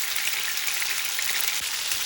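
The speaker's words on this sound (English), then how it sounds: "Put the chicken in the oil one by one or in small batches without crowding the pan." Chicken pieces frying in sunflower oil in a pan, giving a bright, steady sizzle with fine crackling that carries on evenly without pause.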